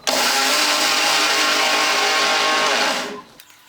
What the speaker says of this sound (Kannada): ಈಗ ನಾನು ಮುಚ್ಚಿ ನುಣ್ಣಗೆ ರುಬ್ಕೋತೀನಿ ನೋಡಿರಿ.